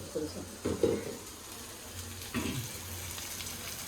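Bombay duck (bombil) fish frying in a little oil, a steady close sizzle with a few louder bursts of crackling and stirring near the start and middle.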